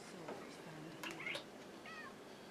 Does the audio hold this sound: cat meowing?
yes